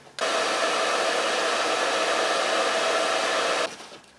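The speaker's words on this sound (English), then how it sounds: "where's my hairdryer?" A hair dryer blows steadily for about three and a half seconds, switching on abruptly and cutting off near the end, loud and close with a broad airy whoosh and no voices.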